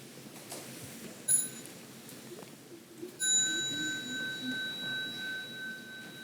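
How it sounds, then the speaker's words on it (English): A small bell struck twice at a children's retreat, a sharp ring that decays, then a second, longer sustained ringing tone in a quiet room. "when you hear the sound of the small bell, please stand up"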